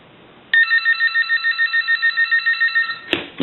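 A Wedgewood rotary dial telephone's bell rings in one loud, rapid metallic burst of about two and a half seconds, followed by a brief click.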